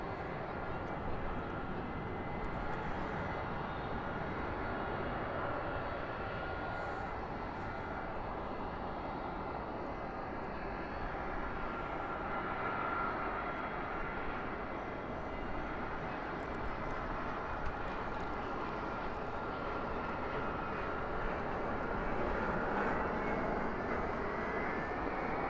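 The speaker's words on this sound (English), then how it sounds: "American Airlines Flight 2820 coming in from San Francisco. That is an Airbus A321." An American Airlines Airbus A321 arriving at night at Dallas/Fort Worth airport, a steady broad engine roar that holds at even loudness throughout, with faint talk underneath.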